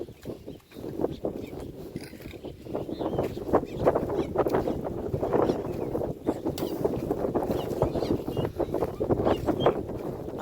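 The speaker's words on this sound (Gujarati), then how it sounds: "પવન છે એટલે પવનનો પણ અવાજ આવશે" A steady wind gusts across an open cotton field, rustling and rumbling against the microphone, moderately loud throughout.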